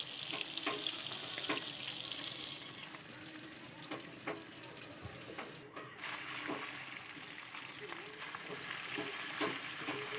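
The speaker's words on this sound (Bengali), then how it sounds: "দেখো তো কি সুন্দর করে মাছটাকে ভাজছে" Fish fries in bubbling oil for a fish curry with drumsticks, crackling and spitting continuously close by, with irregular sharp pops scattered through a steady sizzle.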